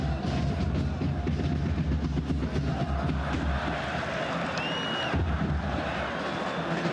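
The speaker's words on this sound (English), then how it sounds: "The crowd doing their very best to lift those players." A stadium crowd at an AFC Champions League football match between Al Faisaly and FC Nasaf makes a steady, dense roar of cheering and chanting that continues without a break throughout.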